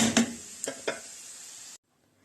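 A steady sizzle of frying onions fills the pan, with a few soft stirring clicks, then cuts off abruptly.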